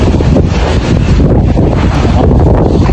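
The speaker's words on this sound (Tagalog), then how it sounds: "mahangin ngayon dito area ngayon" Strong wind buffets the microphone in Rashidiya, Dubai, a loud continuous roaring rumble with no pauses.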